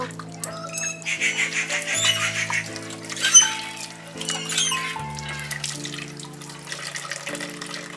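Raw bananas are washed under running water from a tap in a sink for banana chips, giving a continuous close splashing and trickling with a few brief clatters and no speech.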